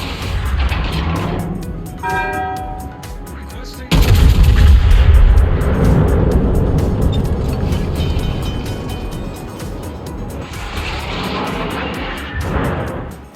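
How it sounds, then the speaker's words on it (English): A USS Massachusetts battleship main-gun salvo thunders in a naval warfare game, one loud booming blast followed by a long rumbling decay, with engine drone and a brief voice in the background. "That's always disappointing when you put a salvo right on top of a ship"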